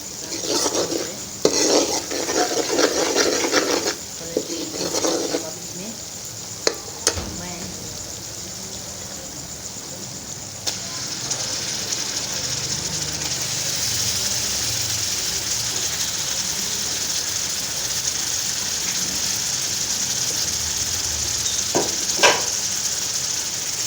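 Minced mutton keema frying in a pan, with spoon clatter and stirring early on, then a steady continuous sizzle with occasional utensil knocks.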